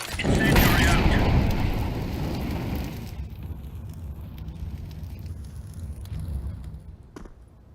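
An incendiary grenade burning in a first-person shooter game: a loud roaring whoosh that fades into a lower crackling hiss.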